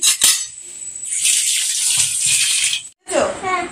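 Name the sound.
running water while washing dishes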